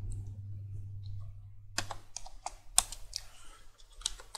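Code being typed on a computer keyboard: after a quiet hum, a quick run of close, crisp key clicks and taps in an uneven rhythm.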